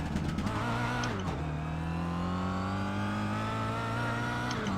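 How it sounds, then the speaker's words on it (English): Steady engine drone of a Kia Optima touring car in the iRacing sim, holding a sustained whine and rising slightly in pitch after a brief dip, with no talk over it. "I am driving a Kia"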